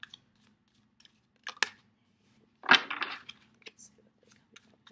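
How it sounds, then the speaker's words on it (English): A brand new tarot card deck being shuffled, giving a brief papery riffle burst midway among scattered soft clicks and taps, close and fairly quiet with no talking. "This is a brand new deck, so my shuffling may be a little bit slow on this one."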